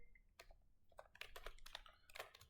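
Quiet keystrokes patter on a computer keyboard in short irregular bursts, close and faint, as a C program is typed.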